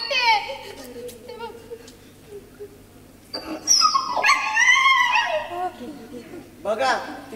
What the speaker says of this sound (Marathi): तिकडे कुत्रा आहे